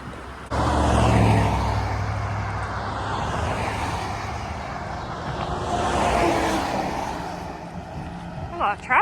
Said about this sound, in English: A lot of traffic on this highway.